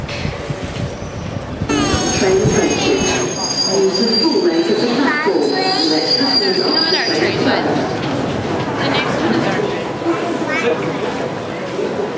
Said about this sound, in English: we are now on the tube back to Gatwick